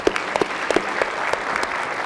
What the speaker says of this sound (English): One more time, a round of applause for his efforts.